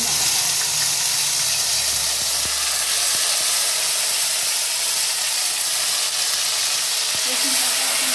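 Garlic paste frying in plain oil in a pan, giving a steady loud sizzling hiss close up that continues without a break.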